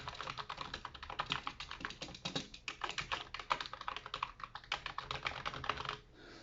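Full key presses on an NPET K10 budget gaming keyboard make a rapid, fairly loud clatter of clicks in an irregular typing rhythm, close to the microphone, stopping abruptly near the end.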